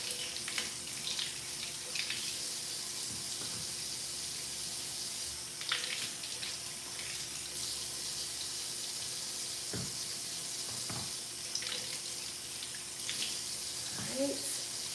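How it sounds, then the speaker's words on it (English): Tap water running steadily over apples and cucumbers being rinsed, a continuous splashing stream from a nearby faucet with occasional louder splashes and knocks as the produce is handled. "I'm gonna just rinse, a final rinse on all of the apples and the cucumbers."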